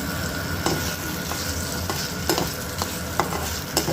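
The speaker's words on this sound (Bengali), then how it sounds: "একটু ভেজে নেব এটার মধ্যে" Gobindobhog rice fries in a pan, giving a continuous steady sizzle punctuated by the occasional scrape of a stirring spoon, close and with no talk.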